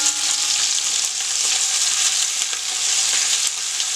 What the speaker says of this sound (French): Donc maintenant on retourne notre viande, donc on va dorer toutes les faces